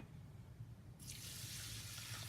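Water poured from a container over flax and seeds, beginning suddenly partway through as a close, steady splashing stream over a low background hum.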